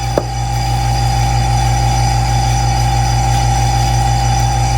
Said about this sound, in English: And that is almost done in the vacuum chamber.